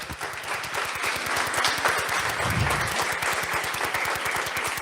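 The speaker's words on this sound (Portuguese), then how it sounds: "aplauda o nome de Jesus" Church congregation applauding the name of Jesus at a Portuguese-language service: steady, dense rhythmic clapping from many hands, fairly close and continuous, with a brief voice or shout partway through.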